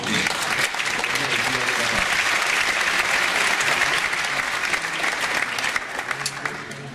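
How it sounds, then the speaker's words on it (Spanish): Festival audience at the Risaralda Bird Festival applauding a guest: full, sustained clapping from a large crowd, loud and even throughout, easing a little near the close. "Ese mero titular merece un aplauso, ¿no?"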